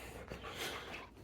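Dogs pant close by in steady, rapid breaths with a little snuffling, in a living room with a sofa and no talking.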